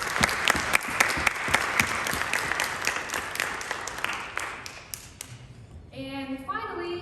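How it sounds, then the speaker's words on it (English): An audience at a music festival opening gives a hearty round of applause for student volunteers. Crisp claps build into a full wash, then taper off as tonal sound enters at the end. "so let's give them a big round of applause"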